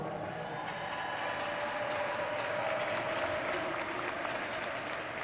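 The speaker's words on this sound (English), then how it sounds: "Let's give them both a big round of applause." A crowd in a hockey arena applauds both teams at the Vezina Cup final presentation between Hope and Lawrence Tech, a sustained wash of clapping, cheering and rink echo that carries on without letup.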